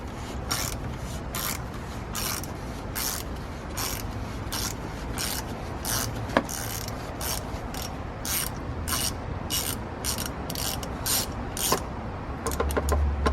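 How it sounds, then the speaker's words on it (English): Wrench loosening the canister oil filter on a Mercedes-Benz GLK 250 BlueTec with the OM651 diesel engine, giving a long run of steady, evenly spaced ratchet clicks close by, with no talk over them. "We've got our wrench set to loosen. Just twist it."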